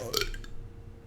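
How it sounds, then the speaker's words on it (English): Two people burp at once, a brief low guttural eruption near the start that quickly fades into quiet room tone, close to the microphone. "We both burped at the same time."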